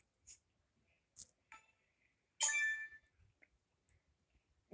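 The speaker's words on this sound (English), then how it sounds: "Bell tone." A bell tone notification sound from a Meta Quest 3 headset: one clear ringing bell strike with a short shimmering decay, standing alone between small clicks and near silence.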